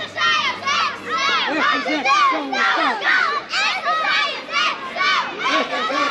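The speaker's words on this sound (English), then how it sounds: "the scouts are out shouting" A crowd of scouts shouts and chants outdoors outside a sanctuary in Guimarães, Portugal, with loud rhythmic massed voices repeating in waves, continuous and close.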